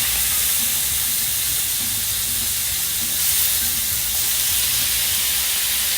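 Mushrooms and sausage sizzle steadily in a hot pan for an okonomiyaki-style breakfast, a continuous close frying hiss with no talking.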